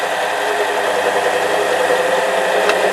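High-speed steel parting tool cutting on a lathe, a steady dense grinding chatter with a low mechanical hum running continuously throughout, fairly loud and close, with no talk.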